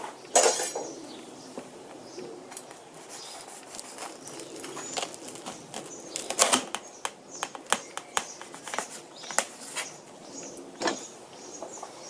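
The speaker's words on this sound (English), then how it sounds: "And now I will cut these things in pieces." A knife cuts a large grilled Wagyu roast beef sandwich into pieces, with scattered close clicks and taps of the blade against the board over a soft background hiss.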